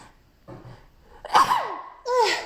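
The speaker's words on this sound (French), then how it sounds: "je vais éternuer" A quick intake of breath builds into a sharp sneeze, followed moments later by a second explosive burst, close and loud.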